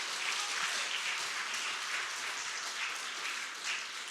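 Soft, steady applause from a church congregation during a Sunday worship service, a continuous wash of clapping heard at a distance without voices.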